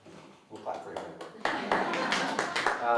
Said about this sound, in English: We'll clap for him.